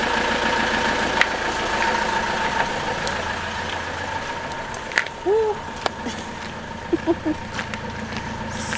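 A van engine idles steadily at medium distance with a low continuous hum, a few faint clicks and brief squeaks over it, in a cold, snowy setting.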